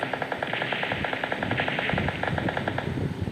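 Automatic gunfire in a shooter video game: rapid, evenly spaced bursts of shots, loud and close, running almost continuously for a few seconds with no talking.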